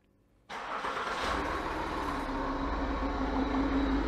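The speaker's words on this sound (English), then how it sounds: "So, quite a smooth engine" A Citroën C6 engine cranks and catches after a short quiet moment, then settles into a steady, close idle hum.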